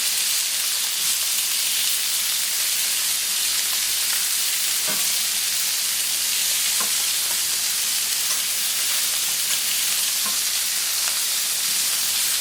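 Duck breast with mirabelle plums sizzles loudly and steadily in a hot pan, a dense, continuous frying hiss with a few faint stirring clicks and no voices.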